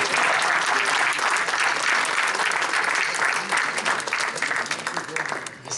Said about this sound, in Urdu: کیا یہ تالیاں دوبارہ بجائی جا سکتی ہیں؟